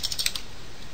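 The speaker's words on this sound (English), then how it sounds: "I'll change the text, for example, by going to the text line here and typing in" Several quick keystrokes tap on a computer keyboard while text is entered into a software properties field, then a short quiet stretch follows with a final click at the end.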